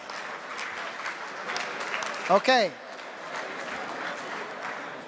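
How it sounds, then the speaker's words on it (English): Forum audience at the Nestlé CSV event claps in a steady wash of hand-clapping, and a single voice cuts in briefly around the middle before the clapping carries on evenly. "If you can hear me, clap 3 times."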